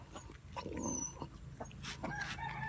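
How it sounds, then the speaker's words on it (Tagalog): Chickens cluck and chatter nearby in short, irregular bursts, with a faint rooster-like call mixed in. "Manok."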